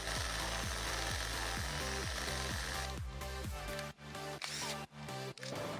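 A cheap screw extractor spinning in a drill as it bores into a stuck wall dowel, a steady buzzing whine with a rapid rhythmic grinding pulse, then a rougher stuttering chatter with brief cutoffs near the end, close and loud, no talk.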